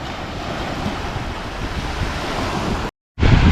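Surf washing steadily onto a sandy beach at Colonia de Sant Jordi, Mallorca, a continuous broad rush mixed with wind buffeting the microphone, broken by a brief cut of silence near the end before the waves resume.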